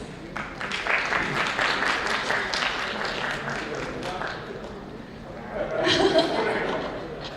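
An audience at a Balaramana Dinagalu song launch event claps to welcome actor Abhay Puneeth on stage, a sustained burst of applause that fades and then rises again briefly, with voices in the crowd.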